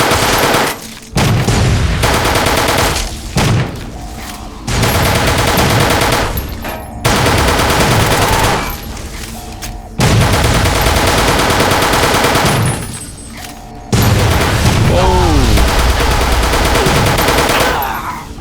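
Loud bursts of automatic gunfire in Fallout: New Vegas, fired in several sustained volleys separated by short pauses, with one stretch of rising whines near the end, and no voices.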